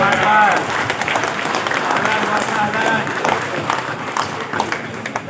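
A crowd at a Malaysian political gathering claps and cheers in a sustained, dense burst, with overlapping voices mixed into the roar.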